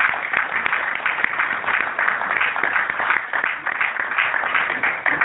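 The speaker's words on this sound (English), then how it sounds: "Big round of applause for him." An open-house crowd applauds a speaker with steady, dense clapping that holds at a fairly even level throughout, with faint voices mixed in.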